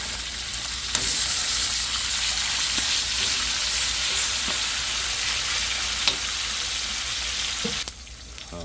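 Food fries in a pan with a continuous, loud hiss of sizzling oil, punctuated by a few sharp utensil clicks, before the sizzle drops off near the end.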